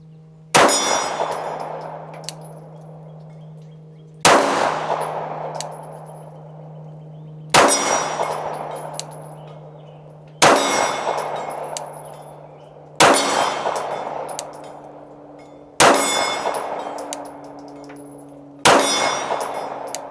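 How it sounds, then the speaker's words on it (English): Rifle or pistol rounds striking a steel gong target at an outdoor sportsman's club range: seven loud, sharp metallic clangs spaced a few seconds apart, each ringing out with a sustained tonal decay. "We'll go right back on that center gong."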